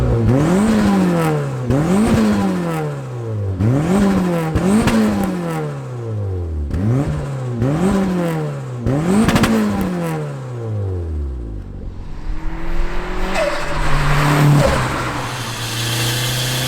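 A Renault Clio 182 turbo with a full 2.5-inch Scorpion turbo-back exhaust and downpipe revs hard about six times in a row, each sharp rise falling away, before it settles into a rougher idle with faint pops.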